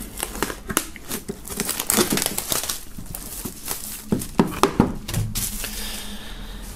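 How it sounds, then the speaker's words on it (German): Plastic shrink-wrap is crinkled and torn off a black Black Panther CD box set by Jalil, giving a close, irregular burst of rustling and crackling with sharp rips, and no talking. "Wir werden das Ganze mal aus der Folie holen und uns dann im Detail ansehen."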